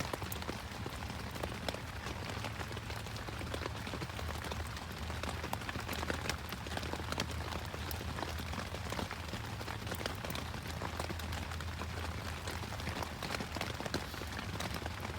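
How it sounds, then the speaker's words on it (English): Heavy rain pours steadily onto a bushcraft shelter in the woods overnight, a dense, even patter of drops with a low hum beneath it. "it's raining pretty hard"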